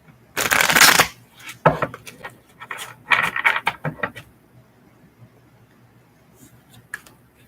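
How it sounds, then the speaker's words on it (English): Tarot cards being shuffled by hand in quick riffling bursts, loud and close, with short rubbing pauses between shuffles and no speech. "I'm just mixing the cards up really well for this reading."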